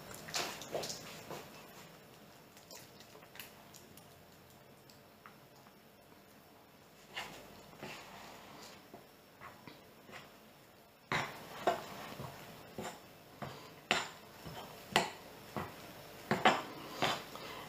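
Spoon or spatula scraping and knocking in a bowl while cookie dough made with chickpea flour is mixed, quiet and irregular at first, then sharper, louder clinks and taps in a steady stirring rhythm toward the end.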